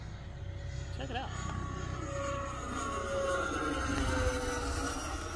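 An E-Flite F-4 Phantom II 80mm electric ducted fan RC jet flies at half throttle, a steady whooshing whine passing overhead with rising and falling pitch, while people talk nearby.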